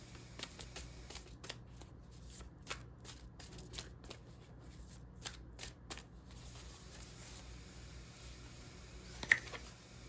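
Tarot cards being shuffled by hand, soft rapid riffles and flicks that come in bursts during the first six seconds, then quieter handling with one sharper tap near the end, close and faint.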